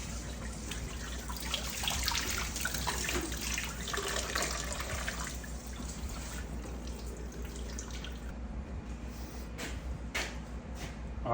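Tap water runs steadily into a sink being refilled with fresh water to soak salted deer hides, a continuous close splashing rush with small drips and clunks near the end.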